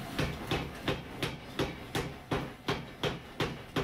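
Power hammer forging steel during the second heat of a Damascus restack: steady heavy blows land about every third of a second, loud and close, with no talk.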